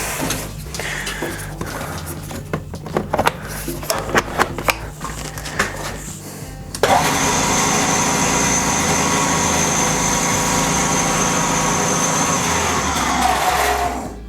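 A newly assembled DymA-8 lathe attachment runs up to speed, starting with scattered clicks and clatter and then settling into a steady, loud motor whine with a constant mechanical hum that lasts about seven seconds.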